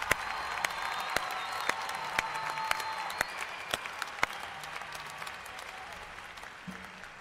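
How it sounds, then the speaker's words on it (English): Sustained applause from a large commencement audience honouring new graduates, a dense steady wash of clapping with scattered sharper claps standing out, tapering slightly toward the end. "Please join me in giving our new alumni one more round of applause"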